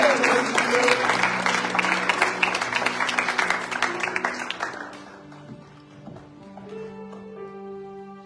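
A church congregation bursts into lively clapping to welcome Brother Georges. The dense applause lasts about five seconds, then thins and fades under sustained keyboard chords.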